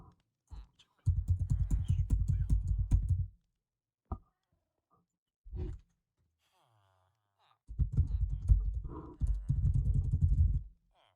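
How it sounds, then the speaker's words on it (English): Loud computer keyboard typing comes in two dense bursts of rapid clacking, each a couple of seconds long, close to the microphone. A few single keystrokes fall in the quiet gap between them. "Why is my keyboard so loud?"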